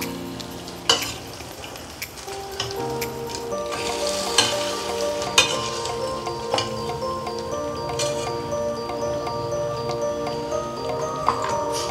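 Sampangi sweets frying in hot oil, a steady dense sizzle with crackling pops and a few sharp ticks throughout, fairly close and continuous with no talk.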